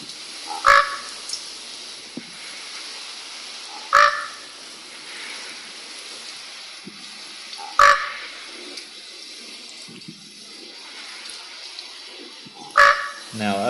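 A female bird calls outdoors in a tree, giving four short, loud, sharp calls spaced a few seconds apart over a faint, steady background hiss.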